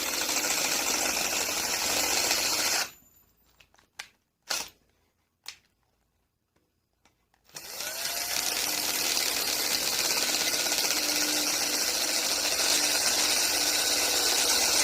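Drill driving a half-inch bit into a block previously started with a countersink, a loud continuous whine for about three seconds, stopping to near silence with a few clicks, then resuming steadily to the end.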